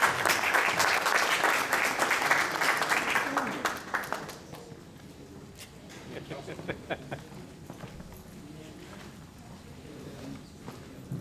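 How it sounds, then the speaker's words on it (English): Loud, dense applause from a seminar audience in Laguna Woods, California fills the first few seconds, then cuts off, leaving quieter shuffling and scattered movement in the room. "So please make a round of applause for Dr. Seshagiri Katpatur."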